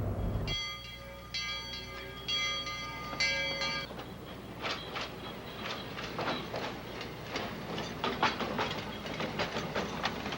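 A train passes through the small town of Snoqualmie, Washington, near the old railway depot, in 1981. A sustained horn or bell tone gives way to a steady, rhythmic clickety-clack of wheels on rails, moderately distant.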